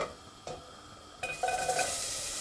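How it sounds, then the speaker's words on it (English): Onions brushed into warm oil in a pan start to sizzle partway through, with a soft stirring scrape and clatter of a utensil at close range. "And then give them a stir for me and coat them all in the oil, in the warm oil."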